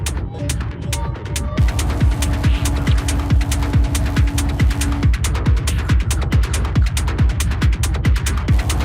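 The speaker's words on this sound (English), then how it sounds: "We're hearing there's some more filtery, stereo modulating, percussive layer coming in." A pulsing, stereo-modulated electronic percussive layer from a techno and electro feedback session ticks in a steady fast rhythm over a low throbbing hum, with a filtered, sweeping texture.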